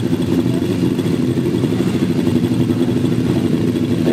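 1000cc grasstrack sidecar racing motorcycles roar down a straight, a dense, continuous loud engine drone with gritty clatter and no break.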